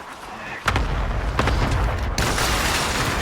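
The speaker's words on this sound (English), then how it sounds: "Green really tried to kill himself with his cluster strike." Cluster strike explosions in Warzone, a dense run of booming blasts that begins abruptly and carries on as a loud, continuous roar with sharp bursts in it.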